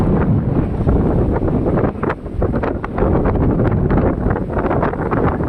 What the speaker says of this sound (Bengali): বাতাসে আমাদের গাছগুলো নুয়ে পড়ছে।